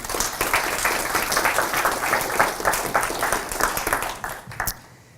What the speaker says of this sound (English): So round of applause for Barclays